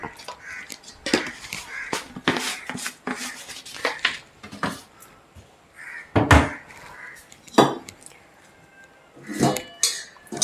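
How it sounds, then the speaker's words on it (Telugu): Flour and salt are stirred together by hand in a bowl for festive Ugadi bobbatlu dough, giving irregular close scrapes, rubs and occasional clinks against the bowl, with quiet pauses between bursts. "ఫస్ట్ ఈ సాల్ట్ అంతా కలిసేటట్టు పిండి కలుపుతున్నా"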